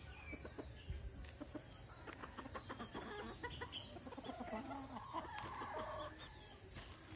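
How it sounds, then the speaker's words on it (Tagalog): Free-range native chickens cluck steadily on a farm, several birds calling at once with short repeated notes close by, over a constant high insect-like whine and outdoor background. "Oh, all the chickens are going out now. Looking for food."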